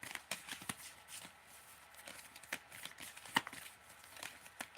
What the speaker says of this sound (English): I have to shuffle these